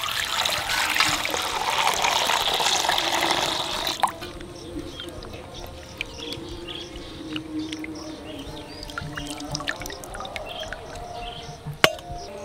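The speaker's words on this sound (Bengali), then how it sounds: "এইবার পরিষ্কার জল দিয়ে ভালো করে ধুয়ে নেব" Pieces of stingray fish are rinsed in clean water: strong running water gushes for about four seconds, then gives way to softer trickles, small splashes and drips, with a sharp clack near the end.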